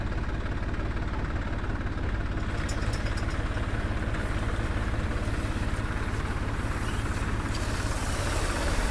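A tractor-driven boom sprayer pump with a hose drones continuously, loud and close, with a rhythmic mechanical throb and no pauses.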